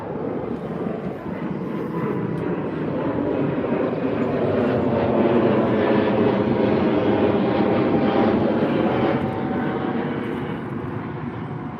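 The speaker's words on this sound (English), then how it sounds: "Lufthansa A320 off to Frankfurt, just taking off now" A Lufthansa Airbus A320 taking off from Heathrow bound for Frankfurt, a loud continuous jet engine roar that builds and holds steady throughout, with no one speaking.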